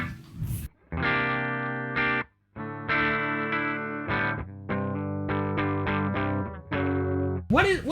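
An electric guitar played through a ProCo Rat distortion pedal, with sustained distorted chords and notes struck in a series of phrases separated by short gaps, loud and close, with no talking.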